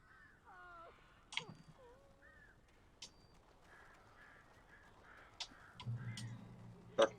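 Crows in the video game Alan Wake caw several times over a quiet game soundscape, harsh scattered calls spread across the scene with a few sharp clicks and a low rumble near the end.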